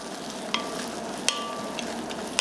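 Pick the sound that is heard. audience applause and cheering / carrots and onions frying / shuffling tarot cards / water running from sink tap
carrots and onions frying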